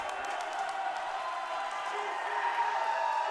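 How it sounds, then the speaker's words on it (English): Crowd noise from a live wrestling match between Gringo Loco and Psycho Clown, a steady, dense roar of cheering and shouting that holds at an even level throughout without a break. "Crowd's going wild here"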